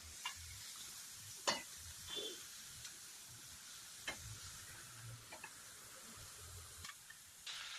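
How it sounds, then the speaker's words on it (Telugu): Bitter gourd pieces fry in a little oil in a pan, with a steady soft sizzle and occasional sharp stirring clicks, no voices. "ఆయిల్ తక్కువ పోసి కొద్ది కొద్ది కొద్దిగా వేపుకుంటాను"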